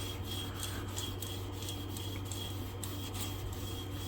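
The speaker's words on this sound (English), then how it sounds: "It's a really soft abrasive, so it'll clean more stuff off the blade." Soft abrasive pad scrubbing a rusty machete blade, steady back-and-forth rasping strokes that sound close and fairly quiet over a constant low background hum.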